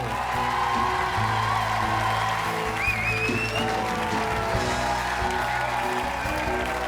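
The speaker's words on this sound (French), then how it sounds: "Un tonnerre d'applaudissements pour la famille Moret." Studio audience of a family TV show applauds steadily for an introduced family, sustained clapping with a brief whoop or whistle partway through and background music underneath.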